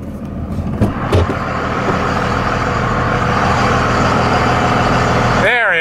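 A 2001 Dodge Ram 3500 dually work truck with a Cummins diesel idling in a steady low rumble, a couple of brief knocks early on, and a short whine at the end as it is shut down.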